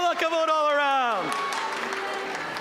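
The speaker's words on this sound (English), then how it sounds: "One more round of applause" Applause at a national Bible competition closing ceremony rises beneath a sustained sung or spoken tone at the start, then continues as moderate, even clapping from the audience.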